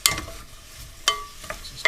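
Chopped onions being stirred in olive oil in a pan, a soft sizzle underneath with a few quick scraping strokes of a utensil, close and fairly quiet.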